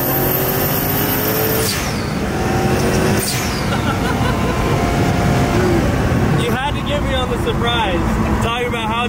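A twin-turbo LSX V8 in a lightweight 800 hp supercar with a gated manual gearbox roars loudly while driving, its revs climbing and dropping through shifts in a continuous, close, aggressive blare.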